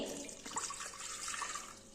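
Water pours steadily for a couple of seconds into a pressure cooker, a continuous splashing rush into a container.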